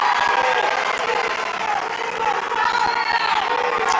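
Large crowd at a political rally in Greensboro, North Carolina cheers and applauds continuously, a dense roar with scattered whoops, loud and sustained.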